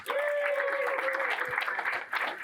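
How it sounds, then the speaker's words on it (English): A comedy club audience at a nurses' night show in Tulsa applauds, a steady wash of clapping with a tonal voice or cheer riding over it, fairly loud and continuous. "Give yourselves a round of applause."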